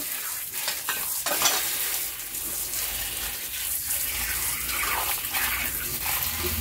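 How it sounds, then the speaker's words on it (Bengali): Taro leaves being washed by hand in water outdoors, with continuous splashing and sloshing close by and a few louder swishes and rustles of wet leaves. "কচুর শাকগুলো ধুয়ে নিচ্ছে মা ভালো করে।"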